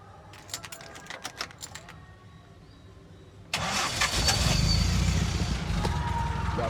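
A clean older car starts up: a few seconds of quiet clicking and cranking, then the engine catches abruptly and settles into a loud, steady idle nearby, with no voices.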